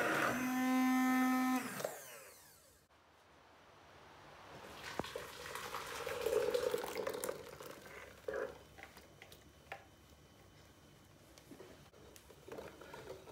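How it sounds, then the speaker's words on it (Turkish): A food processor whirs loudly as it blends tomato sauce for a couple of seconds, then cuts off, leaving quieter kitchen clatter and soft liquid sounds. "Sosumuzu pürüzsüz hale gelene kadar robotla bir çırpacağız."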